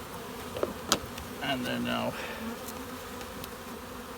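Honey bees buzz steadily as they are scooped into a half cup measure for a Varroa mite sample, a close insect drone with brief clatter and a short spoken aside.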